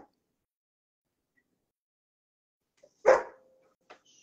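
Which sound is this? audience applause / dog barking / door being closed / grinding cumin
dog barking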